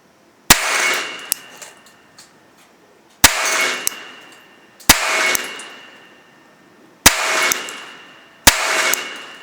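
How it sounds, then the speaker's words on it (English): Five sharp, loud shots from a Sig P365 Gen 2 pistol, spaced a second or two apart, each followed by a ringing clang as rounds strike outdoor steel plates; no voices. "This is the first 10 rounds out of the Sig P365, and I'm gonna try to shoot some of those plates"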